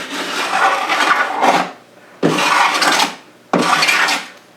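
A sanding block shapes the radius into a wooden rim in three long rasping strokes, each a steady scraping sweep followed by a brief pause, heard up close.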